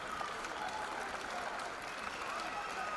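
A crowd at a women's MMA fight in Dresden applauds steadily for the two fighters, a dense, even wash of clapping from an arena audience.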